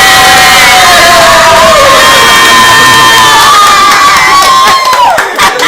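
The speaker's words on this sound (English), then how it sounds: "we're going to have a special edition of this, a round of applause" Loud crowd at an Earth Day gathering in Florida bursts into sustained cheering and shouting, children's high voices and whoops layered over continuous roaring applause that stays full throughout.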